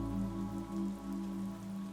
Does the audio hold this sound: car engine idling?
no